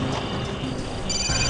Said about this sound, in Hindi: फोन की घंटी अंदर ही बज रही